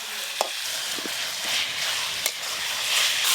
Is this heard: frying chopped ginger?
yes